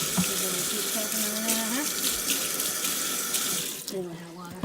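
Tap water runs steadily into a sink during hand washing in a home kitchen, a loud continuous splashing stream that fills the whole stretch before easing slightly near the end.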